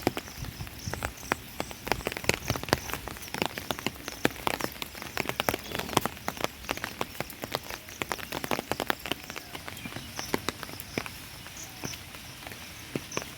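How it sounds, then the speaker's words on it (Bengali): Morning rain falls steadily, pattering on surfaces nearby with a dense scatter of close drips and heavier drops, continuous and fairly quiet, with no voices. "তো দেখতে পাচ্ছ সকালবেলা করেই সুন্দর বৃষ্টি শুরু হয়েছে।"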